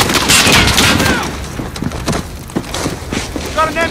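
Machine gun fire from an MG nest during a Modern Warfare campaign breach, a burst of rapid gunfire at first, then scattered shots and impacts under shouted voices.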